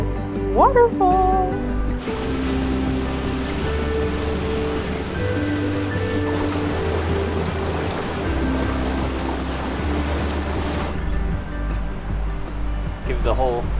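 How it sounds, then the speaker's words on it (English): Water from a waterfall pours in a steady loud rush onto and around a boat, beginning abruptly after a brief quieter moment and cutting off near the end, with a motor hum underneath and people talking. "Look at this waterfall!"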